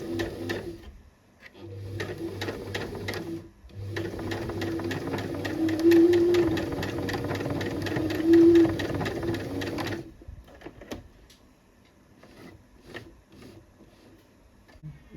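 A sewing machine runs in long steady stretches while stitching the side seam of a cami top, its motor whirring loud and close, stopping briefly then resuming, followed by quieter handling clicks.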